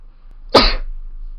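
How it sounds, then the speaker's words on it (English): A single sharp sneeze, close and loud, a sudden burst that fades quickly into a quiet room. "I'm gonna sneeze."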